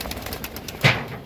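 Domestic pigeons bought at a pigeon market give a soft coo, one short near call rising briefly above quiet background noise.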